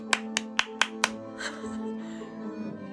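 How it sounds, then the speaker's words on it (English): Five sharp, evenly spaced claps ring out close by over a steady musical tone, followed by a softer, looser smattering of clapping that fades. "Let's make a clap."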